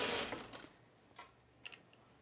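A sewing machine winds a bobbin in a quiet sewing room while a shirt is being made, giving a brief steady whir that fades into faint ticking and light clicks.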